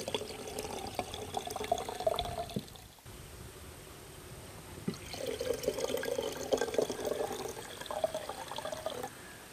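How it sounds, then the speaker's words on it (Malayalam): Chilled, pre-blended pomegranate juice is poured into a clay pot over ice cubes, making a gentle, continuous splashing pour with a short pause midway, heard close but fairly soft. "നമ്മൾ മാതളം ഫ്രിഡ്ജിൽ ജ്യൂസ് അടിച്ച് വെച്ചത് നമുക്ക് ഇതിലേക്ക് ചേർക്കാം."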